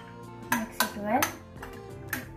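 A spoon clinks and scrapes against a bowl as peanut chaat is mixed with red chili powder, giving a few sharp metallic taps and a short scrape close by.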